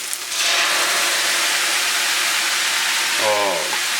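Green onions and peppercorns hit a hot pan with a loud, bright sizzle that bursts in and holds steady and close, with a brief tonal clatter near the end.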